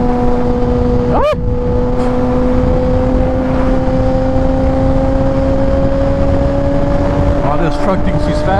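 Steady loud engine drone of a Kawasaki ZX-10R sportbike cruising on a freeway, with heavy wind roar and a rising pitch as speed builds, plus a brief whoosh of passing traffic.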